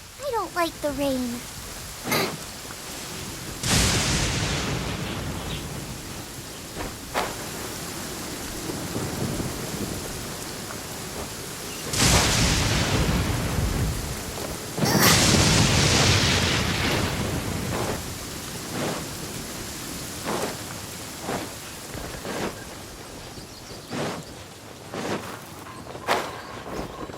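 Rain and thunder in Genshin Impact: steady rainfall hisses throughout while several loud thunderclaps crack and rumble at intervals, with a voice speaking briefly over the storm.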